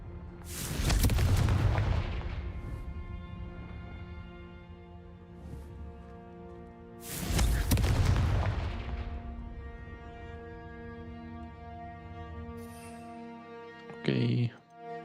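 Confringo spell blasts in Hogwarts Legacy: two big booming explosions a few seconds apart, each decaying into a long ringing tail, followed by a sharp crack near the end.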